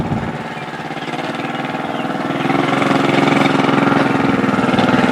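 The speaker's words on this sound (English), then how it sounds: "See, right now Dorinda is in the BMW running the course to see if it's set up nice." A BMW car engine runs through a figure-eight driving course, giving a steady, moderately loud engine drone that swells slightly as it revs up partway through.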